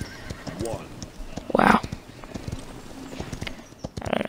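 Horse hooves clip-clopping in the video game Paladins, a quick steady patter with a loud whinny partway through and a voice speaking over the action.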